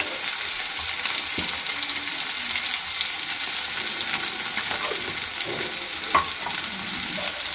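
Black cumin (kalonji) seeds frying in oil pushed to one side of a pan, a steady close hiss of sizzling with faint scrapes and one sharp clink near the end.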